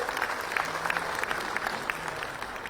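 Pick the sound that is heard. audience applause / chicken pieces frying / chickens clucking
audience applause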